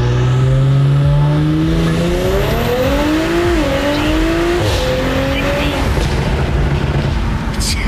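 A tuned Audi S5 accelerates hard, its engine note climbing steadily through the gears with loud, continuous exhaust roar, close and unbroken for several seconds.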